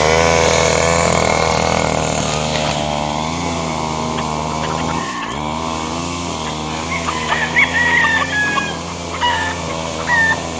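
Gamefowl bull stag roosters of the sweater and Jamaica breeds, at a game farm in Liliw, Laguna, crow and cluck steadily nearby. Several birds overlap, and sharper calls rise toward the end.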